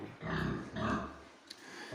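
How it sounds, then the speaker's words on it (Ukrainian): White sows on a small farm, including Landrace and F1 crossbreds, grunt repeatedly at close range in low, rough bursts, with a few brief pauses between calls. "Ось мої свиноматки. Всі вони білі."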